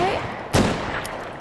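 A single sharp shot from a .44 Magnum revolver in a video game sounds once, briefly and loud, over low background game ambience.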